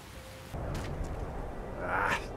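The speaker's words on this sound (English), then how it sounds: "This rain will stop eventually." Steady, soft rain hiss in the video game Skyrim falls on the road to Riften during a cold carriage ride. It is a faint continuous wash that swells slightly near the end, with no voices.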